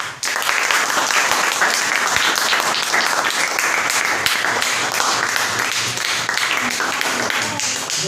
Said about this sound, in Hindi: इनके लिए एक बार ताली बजाओ तुम लोग।